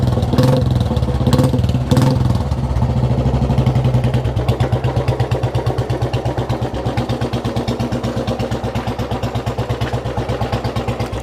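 A restored Royal Enfield Bullet with a new exhaust idles and then takes light throttle, its single-cylinder engine thumping in a loud, steady rhythmic beat that quickens into fast, even pulses, close up and with no voices.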